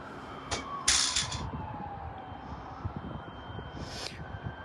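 Distant police sirens wail during a SWAT stand-off in Dallas, Texas, a faint falling tone under broadband street noise, with a few brief louder bursts of noise.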